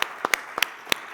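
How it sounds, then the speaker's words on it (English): A few sparse, crisp hand claps from an award ceremony audience, about five or six separate claps spread over a second. "I would like to thank them with a last round of applause."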